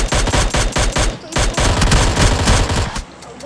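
Rapid bursts of gunfire from a shotgun and other weapons in the mobile battle-royale game PUBG Mobile Lite, loud and dense with repeated blasts through most of the stretch, easing off near the end.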